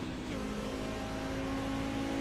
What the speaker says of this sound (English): Listen to the gear shift.